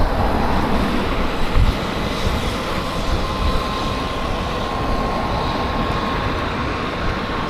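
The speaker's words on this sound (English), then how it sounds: "so that guy was on a noisy bike." A noisy motorbike passes on a late-night ride home along a main street, its broadband engine roar steady and loud throughout, with a brief louder swell early on and a thin whine running beneath.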